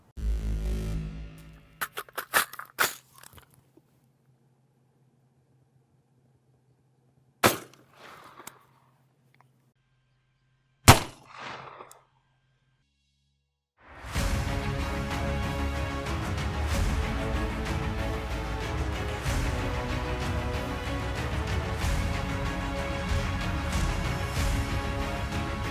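Gunshots from an 8-inch AR-15 in .300 Blackout firing Federal 120 grain PowerShok rounds into ballistic gelatin at an outdoor range: a few sharp isolated cracks spaced several seconds apart, followed by a long stretch of steady background sound.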